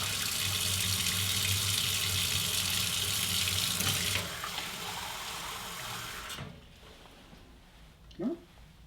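Water runs from a tap through a three-stage R5 filter system at a warehouse cleaning station, a loud steady gush that cuts off partway, leaving a quieter trickle and a brief clunk near the end.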